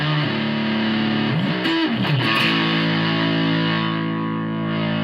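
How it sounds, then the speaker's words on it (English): An electric guitar played through a JHS 3 Series distortion pedal with the distortion turned all the way up rings out in thick, saturated sustained chords, shifting once midway before holding a buzzing, heavily clipped tone. "Obviously got to try and max the distortion."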